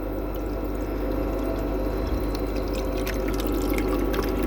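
A portable ice maker hums steadily inside a camper van, with a continuous trickling, pouring water sound running at an even level throughout and no talking.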